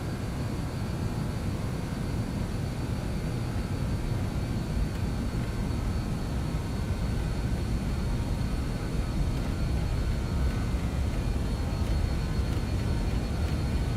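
Aircraft engines on a T-tail jet roar steadily at high power, a broad dense wash of engine noise that holds loud and constant throughout with slight building intensity toward the end.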